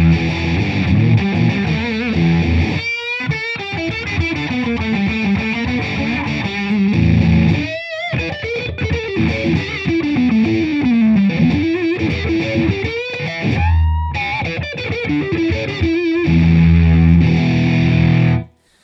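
Electric guitar played through a fuzz pedal into a Fractal Axe-Fx amp emulation, thick saturated distorted riffs and sustained bends, loud and continuous with brief pauses, ending abruptly.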